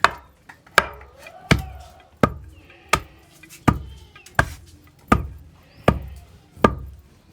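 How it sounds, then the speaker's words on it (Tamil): Roasted sesame seeds and jaggery pounded in a stone mortar, about ten heavy, evenly spaced thuds with a short ringing decay, close and loud, with no talk. "வாங்க அப்படியே இனிப்புக்கு வெல்லத்தையும் சேர்த்து நல்லா தூளாக இடித்து எடுத்துக்கலாம்."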